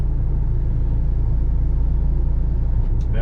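A Primetech 175 machine being backed onto a trailer while towing to a new job, its steady, loud low engine rumble running continuously and close by, with no talk over it.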